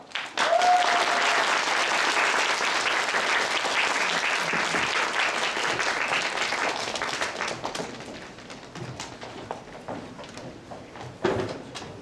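A ceremony audience at a university health administration department's licensing send-off event bursts into loud applause, which holds for several seconds and then thins into scattered claps.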